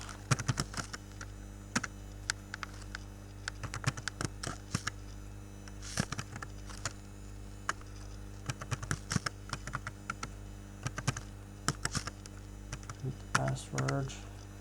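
A username is typed on a computer keyboard: irregular, quick key clicks in bursts over a low steady hum, close and quiet, with a short tonal sound near the end.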